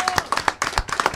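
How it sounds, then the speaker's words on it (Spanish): Scattered claps from a studio audience on an Argentine TV show, a handful of separate hand claps in an uneven rhythm over about a second, fairly close and moderate in level, not a full sustained ovation. "Un aplauso enorme."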